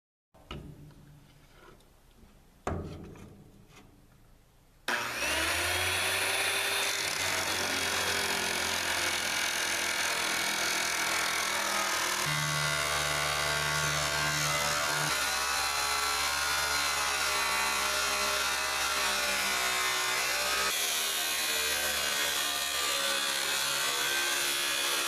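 An abrasive blade grinds through the steel lids of fuel oil tanks in a loud, harsh, continuous screech. A few brief scrapes and knocks come before the cut begins, and the pitch shifts slightly as the blade bites.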